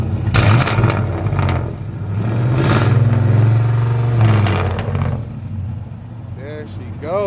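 A cammed LS-swapped 1968 GMC pickup with a 96 Impala rear end revs up from idle, the engine swelling and falling in a couple of throttle blips, close by, with someone talking over it.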